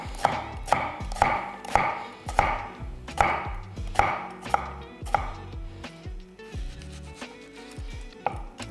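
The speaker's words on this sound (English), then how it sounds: "A million different ways to cut an onion." A knife chops a red onion on a cutting board: a steady run of crisp, close knocks that thins out into slower, finer cuts toward the end.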